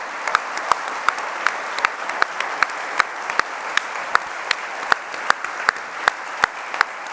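Audience applause after a tech talk with team members, sparse and fairly distant clapping with sharp individual claps standing out over a steady background patter, continuing for several seconds without voices.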